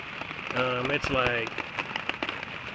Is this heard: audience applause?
no